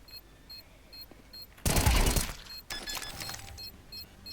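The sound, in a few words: bomb being defused in the video game Counter-Strike 2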